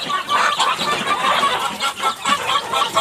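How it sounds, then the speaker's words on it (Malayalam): Backyard country chickens and small chicks cluck and peep continuously in a coop, a busy close chorus with no pauses. "ഇവിടെ കുറച്ച് കോഴിക്കുഞ്ഞുങ്ങളുണ്ട്"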